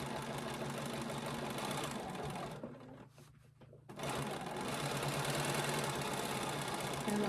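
A sewing machine runs top stitching around a fabric bowl cozy, its rapid mechanical whir steady and close, stopping briefly for about a second before resuming.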